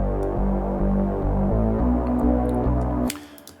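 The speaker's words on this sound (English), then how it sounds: "I love this kind of synth sounds because they gel very well together and sort of becomes one singular sound." Dark, layered synth chords built from Logic Pro stock plugins with the filter cutoff rolled off, blending into one thick sustained tone; loud chord changes roughly every third of a second before the sound drops away at the end.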